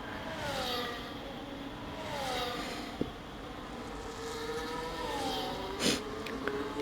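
F1 race cars in the F1 25 video game, racing in a league grand prix at Imola, give a steady, moderately loud engine whine whose pitch rises and falls as they accelerate and shift, with a few faint clicks.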